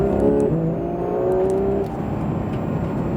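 Porsche 911 (991) GT3 RS engine on a race circuit, a close, loud rev that rises and then falls off as the throttle eases, with steady mechanical whine throughout.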